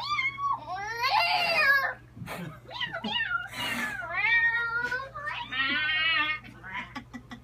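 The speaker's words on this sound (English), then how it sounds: "Which made all the cats nervous, and they cried out as well." Several cats meow and yowl in overlapping, drawn-out cries, loud and close, one after another with brief pauses.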